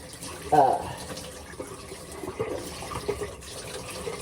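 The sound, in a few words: running water rinsing off soap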